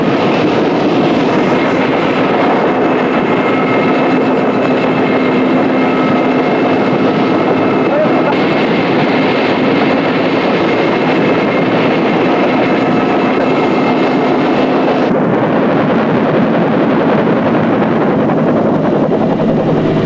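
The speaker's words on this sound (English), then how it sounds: "flying by helicopter toward the mountains" A helicopter drones loudly and steadily throughout, its engine whine and rotor noise constant and close, with a slight shift in tone near the end.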